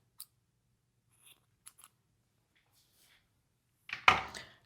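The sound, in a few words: scissors cutting yarn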